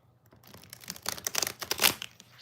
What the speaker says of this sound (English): So let's shuffle again.